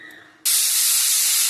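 A pressure cooker cooking chakari pongali releases steam in a sudden, loud, sustained hiss that bursts in abruptly after a faint moment and holds steady close by.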